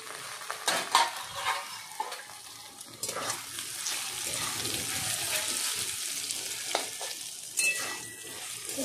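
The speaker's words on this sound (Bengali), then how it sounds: "এবার ঢাকনা খুলে 3 থেকে 4 মিনিট আমাদের এটা ভেজে নিতে হবে" Kochur loti, taro stolons, fry uncovered in a pan with a steady, hissing sizzle and intermittent stirring scrapes, close up, with some splashy watery texture and no talking.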